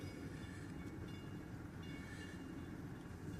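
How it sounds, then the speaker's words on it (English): A South Shore Line train passes at the Clark Road crossing, heard as a steady, fairly distant rumble with light wheel clatter throughout. "There is train"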